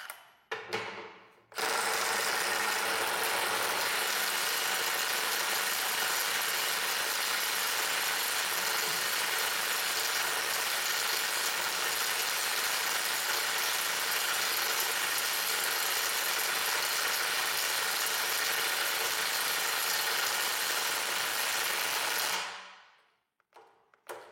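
A Milwaukee M12 cordless impact wrench hammers continuously for about twenty seconds while loosening screws, a loud, dense, steady rattling buzz that starts abruptly and cuts off at the end.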